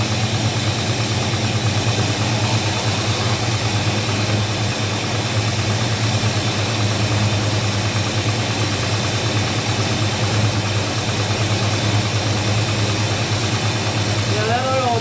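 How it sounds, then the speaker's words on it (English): A 1967 Ford Mustang's 302 V8 idles steadily and continuously at close range, a faint ticking tap from the fuel pump running through the low, even rumble. "I think it's a fuel pump."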